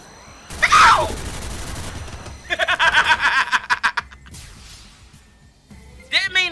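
Gunfire from the video game Xenosaga Episode III, a loud burst of rapid shots in the middle, set among game sound effects, with a laugh and voices around it.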